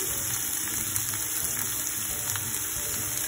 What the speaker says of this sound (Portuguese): o alho já tá refogando